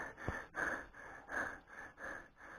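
Heavy rhythmic panting from a cyclist after a steep climb, about five deep breaths in a steady pattern, close to the microphone, with no talking.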